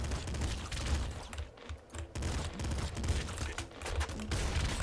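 An assault rifle fires in the game Nuclear Throne: dense, loud bursts of rapid shots that pause briefly twice, with no talking.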